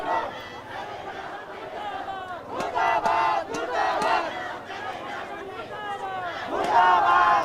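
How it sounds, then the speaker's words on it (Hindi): A large protest crowd in Kathmandu, Nepal, shouts and chants continuously while tear gas shells are fired, with sharp bangs cutting through the dense, loud roar of voices. "इस तरह के जो आंसू गैस के गोले हैं वो चलाए जा रहा है जनता के ऊपर, युवाओं के ऊपर"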